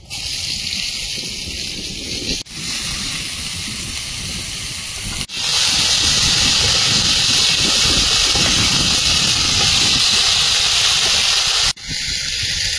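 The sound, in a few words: gourd stalks added to frying potatoes, sizzling in oil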